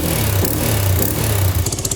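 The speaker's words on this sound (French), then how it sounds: "C'est le moteur de la 125 CRF, TTS." A Honda CRF 125 motorcycle engine fitted in a homemade helicopter runs steadily, a loud close buzzing drone that breaks into quick rhythmic pulses near the end.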